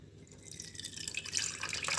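Strained ginger juice trickles and drips steadily into a container during a backyard brewing session, a continuous close liquid patter with no talk.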